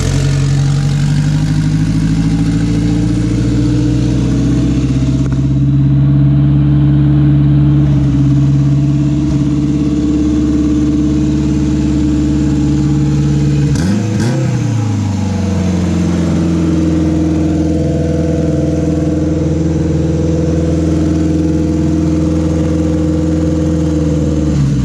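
Turbocharged Honda K20 engine swapped into an EK sedan, idling steadily with a deep, even drone close by, a brief blip partway through, then settling back to a smooth idle.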